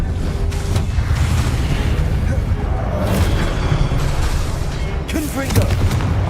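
Spell combat in Hogwarts Legacy with the Expelliarmus spell being cast: a continuous rumble of heavy booms and blasts with sharp impacts near the start and end, loud and close, with speech mixed in.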